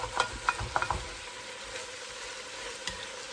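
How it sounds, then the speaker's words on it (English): Vegetables for pepper steak sauté in a pan, with a few sharp stirring scrapes early on over a steady close sizzle that carries on alone. "So we're going to let these veggies just saute here for a couple minutes longer."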